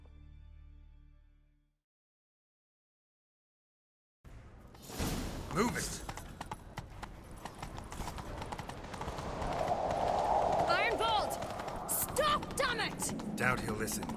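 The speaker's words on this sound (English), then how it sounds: "Grab a horse, we'll chase him down." In The Witcher 3 video game, a horse gallops in a fast, steady clip-clop rhythm after a moment of silence, with character voices and action sounds layered on top.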